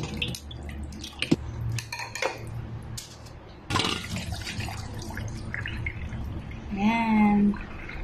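Boiled fern leaves being drained in a pot, with water trickling and splashing, pot and utensil clatters, and a short pouring gush near the end.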